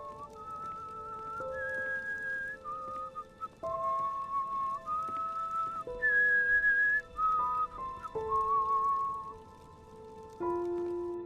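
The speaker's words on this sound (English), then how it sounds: "Why are you just whistling?" A character in Enderal, the Skyrim mod, whistles a slow, wandering tune of clear sustained notes that step up and down, alone and fairly close over quiet background.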